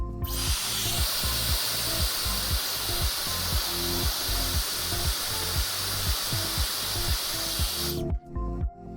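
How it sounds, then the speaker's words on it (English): A hair dryer heating an Apple Watch Series 7 back cover blows with a steady loud whoosh and a pulsing motor hum, running continuously before switching off near the end. "Use a hairdryer or heat gun to heat the back cover to loosen the adhesive underneath."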